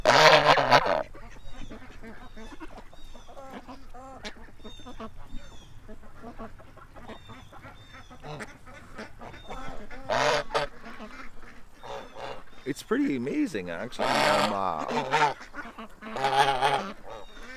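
Geese that have taken over a duck pond honk repeatedly at close range, loud bursts scattered through the stretch, with someone talking over quieter calls early on.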